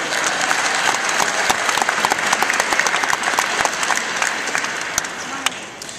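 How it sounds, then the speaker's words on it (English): Graduates and guests at a university graduation ceremony give family and friends a warm round of applause, loud sustained clapping from a large crowd with scattered voices, tapering slightly at the end. "Graduates, let's give our family and friends a warm round of applause for their support"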